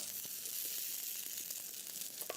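A chicken burger patty fries in oil in a pan, a steady, soft hiss of sizzling with small pops and crackles scattered throughout.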